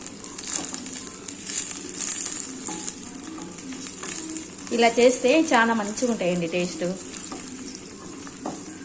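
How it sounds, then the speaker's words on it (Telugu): Green chillies fry in a pan with a close, steady sizzle and crackle, stirred now and then, while someone talks over the cooking. "బాగా వేయించుకోవాలండి."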